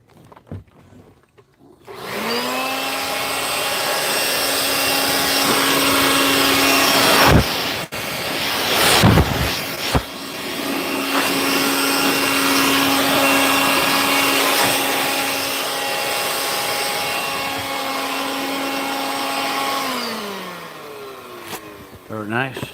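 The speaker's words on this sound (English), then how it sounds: "Okay, we'll take a little walk with the blower, see what we could get." A corded electric leaf blower with a 12-foot cord runs outdoors, starting up after a moment into a steady, loud, whining motor drone that dips briefly midway, then winds down near the end.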